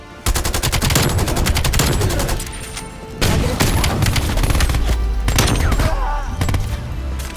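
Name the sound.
sniper rifle gunfire in a video game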